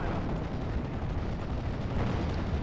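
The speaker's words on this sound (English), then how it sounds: "There's so many cool explosions and mortar fire and stuff like that." Explosions and mortar fire on a World War II Normandy battlefield in a strategy game, heard as a dense continuous rumble of distant blasts without distinct individual booms.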